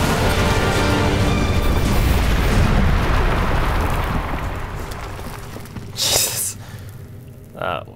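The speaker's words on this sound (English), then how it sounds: "Explosion." A heavy, sustained boom rolls out in Crysis 3 gameplay, loud and dense at first and then slowly fading over several seconds, followed by two short sharp bursts near the end.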